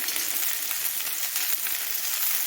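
Amaranth greens (siru keerai) frying in oil with onions, a steady dense sizzle with faint crackles running throughout, close and even in level, with no voices.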